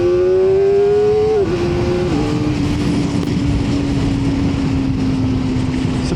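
A Kawasaki Ninja ZX-4RR motorcycle engine droning loudly and steadily on a dual carriageway, its pitch climbing through the gears with brief shift dips, then settling into a constant cruising whine under heavy wind rush.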